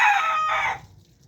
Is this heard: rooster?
yes